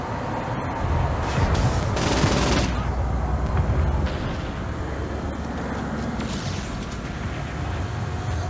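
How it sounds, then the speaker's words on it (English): Video game gunfire from someone hanging out of a car window, a dense, loud burst of shots with chaotic noise and rumbling vehicle sound running throughout. "I'm hanging out the window shooting things."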